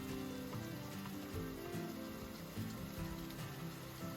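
Rain falling at night on a campsite in the Hoosier National Forest, a dense continuous patter of drops hitting surfaces, steady and fairly close, with no voices.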